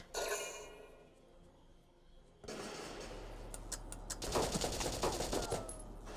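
Gunfire in the video game Valkyria Chronicles breaks out after a quieter stretch as a dense burst of rapid automatic shots, sustained and loud over a low rumble, with sharp metallic pings mixed in.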